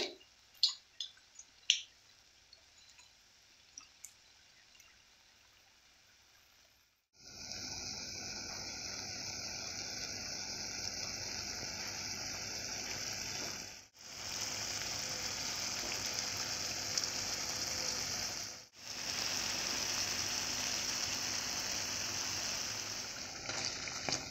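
After a quiet opening with a few small taps, flower pakora fritters fry in hot oil with a continuous bubbling sizzle. It stays steady and close, broken by two brief pauses.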